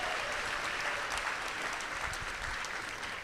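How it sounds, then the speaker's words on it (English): An audience at a school convocation applauds, a dense, steady patter of many hands clapping together in a large room, sustained and even throughout with no voices on top. "Clap it up for Meridian."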